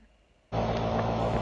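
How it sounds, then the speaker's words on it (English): An air conditioner switches on abruptly into a loud, steady broadband whoosh with a low hum underneath. "Excuse the background noise, that's my AC."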